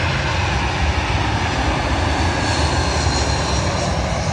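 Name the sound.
British Airways airliner arriving at London Heathrow runway 27L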